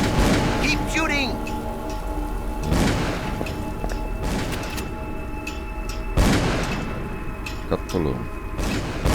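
Gunfire and booming explosions in the Call of Cthulhu video game, several sharp bursts spread irregularly across the scene, mixed with game sounds and a person talking over them.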